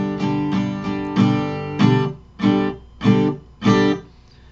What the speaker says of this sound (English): We're going to strum it for a bar, and then we're going to do four chord cutoffs,